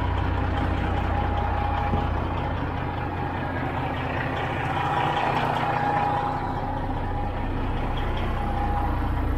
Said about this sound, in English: listening to the engine